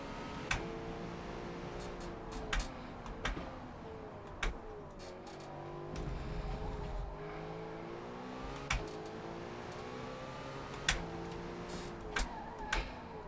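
A car driven in the Forza Motorsport racing game, engine revving and shifting through gears with rising and falling pitch, punctuated by sharp clicks of gear changes or curbs, steady and close with no talk.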